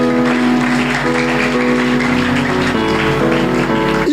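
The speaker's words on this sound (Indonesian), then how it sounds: "Tepuk tangan bagi Tuhan kita." Congregation applause at a Christian church service, a steady wash of clapping blended with sustained music throughout.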